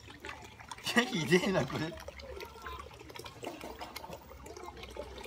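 Water running and sloshing while hands are washed, a steady close splashing stream with a louder surge near the start, heard under a voice talking.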